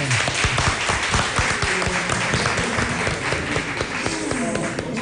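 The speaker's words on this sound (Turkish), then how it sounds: "Şampiyon takımı da bir alkışlayalım değil mi yani?" A Turkish television studio audience claps for the champion team, a dense burst of applause with sharp individual claps standing out near the microphone, steady throughout, with some voices mixed in.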